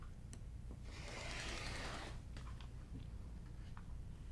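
A rotary cutter slicing through quilting fabric along a ruler, a faint brief scraping swish lasting about a second amid quiet room noise.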